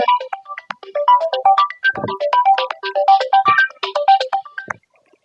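A mobile phone ringtone plays a bright, fast melodic tune of rapid repeating notes, loud and close, for about five seconds before stopping, with no talk over it.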